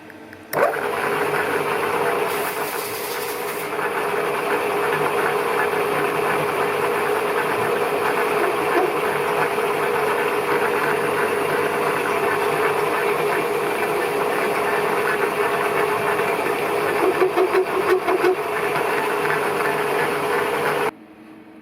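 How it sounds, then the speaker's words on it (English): A Bridgeport-type turret milling machine runs steadily while cutting a small chamfer in a hole, its motor hum and cutting whine loud and constant, then stopping abruptly near the end. "I'll put a little chamfer in here first."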